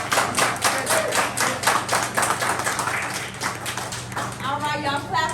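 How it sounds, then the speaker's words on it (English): An audience at a poetry slam qualifier clapping for a poet, a dense run of many hands with some whoops, easing toward the end as cheering voices rise over it. "y'all clap for the poet one more time"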